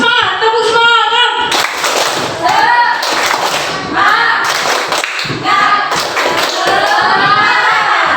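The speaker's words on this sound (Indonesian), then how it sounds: "Mari kita tepuk semangat" An audience of parents at an Indonesian community sharing event doing a rhythmic spirit clap: loud bursts of clapping in a patterned beat, alternating with a leader's chanted calls and group voices.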